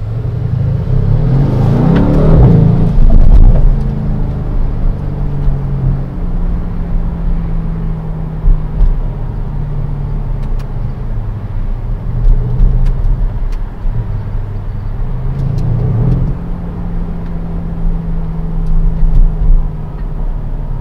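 A 2020 Mercedes-AMG C63 S Estate engine rumbles deeply from inside the car, swelling into two loud acceleration pulls early on and again later, with a steady droning cruise between them and no talking.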